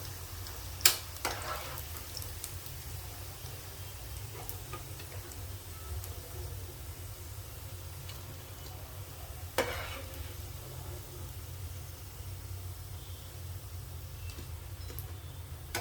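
Cauliflower pieces deep-frying in oil until golden brown for Gobi Manchurian, a continuous soft sizzle with a couple of sharp metal clinks from a spoon or ladle against the pan.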